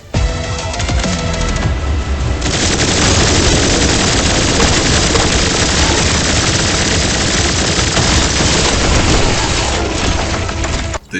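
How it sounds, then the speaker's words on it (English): Sustained rapid gunfire from dual-wielded Uzis in the shooter Turbo Overkill, a dense, loud, continuous rattle with crunching impacts that runs almost unbroken to the end. "Dual wielding Uzis."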